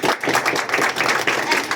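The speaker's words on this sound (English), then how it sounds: "Clap hands for yourself" A group of people clapping their hands together in steady, continuous applause, loud and dense throughout with no pauses.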